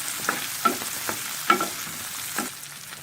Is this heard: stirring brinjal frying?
yes